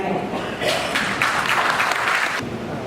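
Audience applause at an Aceh regional election candidate debate, steady crowd clapping swelling for about two seconds and then fading, with a voice speaking over the hall.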